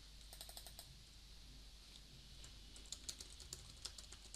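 Rapid typing on a computer keyboard while entering text in a web design app, steady light key clicks in bursts, close and fairly quiet over a faint background hum.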